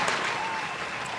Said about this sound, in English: Round of applause for that, come on.